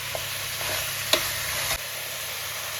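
Mutton pieces with ginger paste frying on a high flame for dum biryani, a constant close hiss of sizzling broken by a couple of brief utensil taps.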